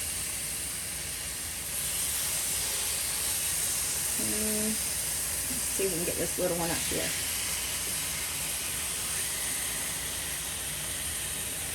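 Steady loud sizzling hiss runs throughout as seasoned chicken sears on a hot grill, with someone speaking briefly in the middle.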